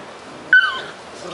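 A single short, high-pitched whimper from an Australian Shepherd puppy, close by, over faint background noise.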